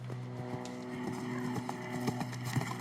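A show jumping horse's hoofbeats drum at a steady canter at the Longines FEI Jumping Nations Cup in La Baule, moderately distant under a low hum of arena noise.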